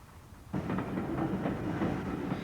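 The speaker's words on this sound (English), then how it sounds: "You can travel on a steam train over the North Yorkshire moors" A steam train starts rumbling in after a quiet moment, a steady rolling clatter of wheels on track with a low chugging undertone.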